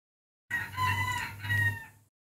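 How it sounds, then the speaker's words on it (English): A rooster crows a drawn-out cock-a-doodle-doo within a video game, ringing out clearly on its own with no talk, followed by a short trailing cluck as it fades. "Did you just hear a chicken?"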